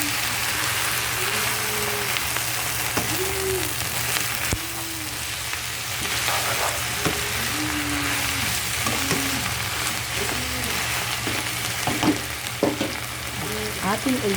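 Kangkong wilting in a hot pan beside alamang, a constant crackling sizzle with occasional utensil scrapes and taps as it is stirred, close and steady; brief faint vocal sounds come and go in the background.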